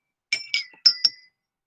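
Four bright ringing clinks from a fancy drinking glass, in two quick pairs, each with a sustained high tone that fades quickly; close and clear with no talking.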